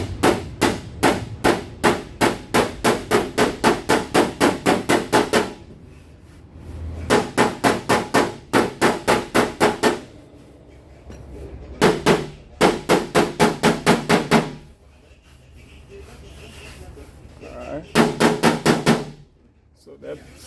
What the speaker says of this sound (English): where there is a high spot, I'll tap it in with this